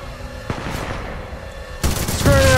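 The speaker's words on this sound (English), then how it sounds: "With that machine gun up here." Machine gun fire in the video game Titanfall 2, a loud, dense rattling burst near the end after a quieter stretch of game noise and a single sharp crack.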